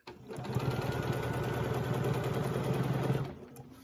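A sewing machine quilts an orange peel design in one steady, close, continuous run lasting about three seconds, with a smooth motor drone and rapid needle rhythm.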